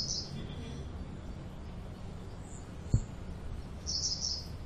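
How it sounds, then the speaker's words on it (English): Paddy field pipit calls: a couple of thin, high chirps near the start and end, faint against low background rumble, with a soft click midway. "This is a paddy field pipit,"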